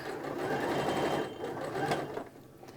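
A sewing machine stitching a fabric placemat, running in a steady close whir that briefly eases and slows toward the end, with no talk.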